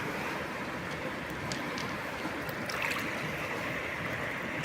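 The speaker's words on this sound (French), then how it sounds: "vraiment on est tout proche de l'eau là, de la rivière" Steady rushing water, like a river flowing close by, fills the whole stretch with a constant broadband wash and no talking.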